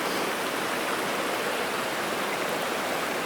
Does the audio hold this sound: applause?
no